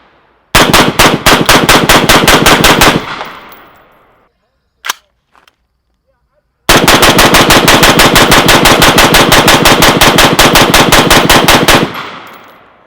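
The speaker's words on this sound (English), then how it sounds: "I can hear the echo of these shots amplified through the microphones" A Del-Ton Scout rifle firing two long rapid bursts of loud, close shots, a couple of isolated shots between them in a quiet gap, with echo trailing after each burst.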